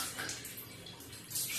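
Tap water runs steadily during a golden retriever's bath, a soft broadband splashing rush that stays fairly quiet and swells slightly near the end, with no voices.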